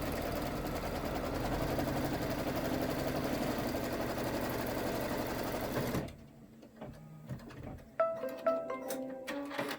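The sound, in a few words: sewing machine doing decorative stitching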